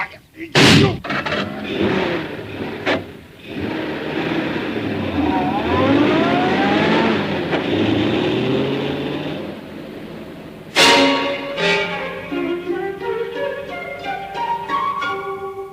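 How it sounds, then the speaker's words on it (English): A car in a 1950s radio crime drama starts and pulls away after sharp bang-like hits, engine whine rising and shifting through gears, then another loud slam and a receding, wavering motor. "A car drives away."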